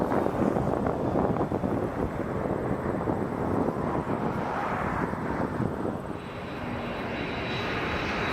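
Jet airliner landing or departing on runway 23 at Toronto Pearson International Airport, a loud, steady engine roar with broad rushing noise and some wind buffeting, sustained throughout without fading.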